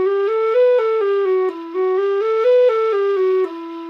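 A low D tin whistle plays slow warm-up scale notes, stepping up five notes and back down in a clear, pure tone, each note sustained about half a second, loud and close with no other sounds.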